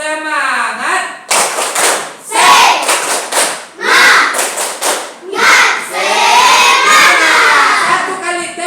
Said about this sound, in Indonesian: Kita coba tepuk semangat.